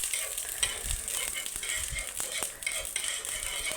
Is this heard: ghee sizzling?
yes